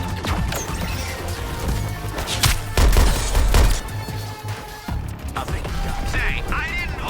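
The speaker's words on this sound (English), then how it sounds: "Say, I didn't order the aerial bombardment." Aerial bombardment in Suicide Squad: Kill the Justice League: a chaotic run of loud crashing explosions, rattling impacts and bursts of gunfire, with a heavy booming stretch midway and dense game noise throughout.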